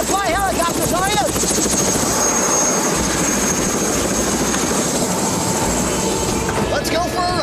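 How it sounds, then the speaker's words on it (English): A helicopter in flight roars loudly and steadily through the whole stretch, with a constant rotor and engine drone, while voices talk briefly over it near the start and end. "We jumped into a helicopter and off we went to Piestewa"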